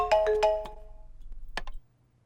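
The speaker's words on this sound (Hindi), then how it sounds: "तुम्हारा फोन रिंग हो रहा है" A mobile phone ringtone plays a quick run of bright melodic notes, pauses briefly, then sounds two more tones before cutting off. It is fairly soft and heard alone.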